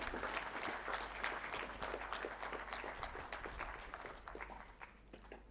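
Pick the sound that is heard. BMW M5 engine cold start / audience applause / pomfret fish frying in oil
audience applause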